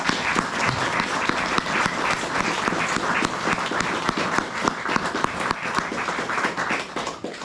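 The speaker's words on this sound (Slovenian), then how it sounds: "en aplavz, prosim" A concert audience gives sustained, dense applause as the soloist of a hunters' choir is called to the stage, many hands clapping steadily with sharp individual claps standing out, tapering slightly at the end.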